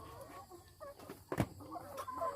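A laying hen clucks and squawks while being caught and handled for vaccination, with close, agitated calls and one sharp loud squawk in the middle.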